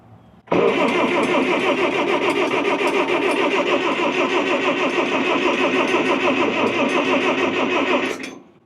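The propane engine of a 1957 Farmall tractor cranks hard and fast on the starter without catching, a loud, even whirring drone that runs for several seconds and then stops abruptly.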